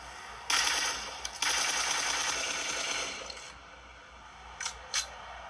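Rapid automatic gunfire from a weapon in the battle royale game PUBG Mobile, a sustained burst lasting a few seconds followed by two short separate shots, with no talking.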